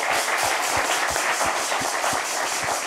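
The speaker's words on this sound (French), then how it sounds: "On veut applaudir déjà pour son exploit." An audience applauds Burkina Faso football coach Ignace Nabaloum in a sports broadcast setting, a dense, steady wash of many hands clapping throughout, with a rhythmic low thump underneath.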